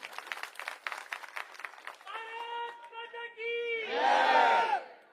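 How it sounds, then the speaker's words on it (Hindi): At an outdoor Aam Aadmi Party campaign rally in Burari, Delhi, the crowd claps for party workers. A quick run of claps gives way to loud collective shouting and cheering that swells near the end. "सबसे पहले हमारे कार्यकर्ताओं के लिए एक बार जोरदार तालियां आप लोग बजा दीजिए"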